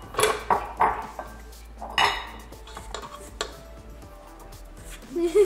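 A rubber spatula scraping down a mixing bowl of raspberry cupcake batter, with close clinks and knocks of utensils against the bowl and scraping strokes, scattered and uneven in a kitchen.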